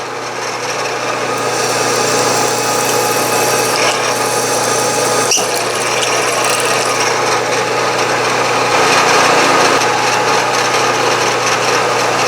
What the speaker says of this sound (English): drill all 6 holes in this size